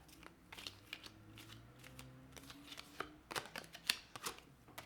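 Tarot cards being shuffled in quick, papery riffles and soft slaps, a run of crisp bursts that grows busier toward the end, with no one talking.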